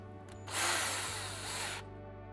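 A power drill whirs in a single burst of just over a second, close by, then stops, leaving a faint hum.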